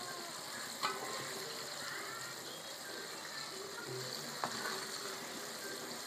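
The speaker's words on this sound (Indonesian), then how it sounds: "Udah selesai gorengnya." Chicken pieces frying in plenty of oil for homemade crispy fried chicken, a steady close sizzle and crackle with a couple of faint clicks from utensils, and no talk over it.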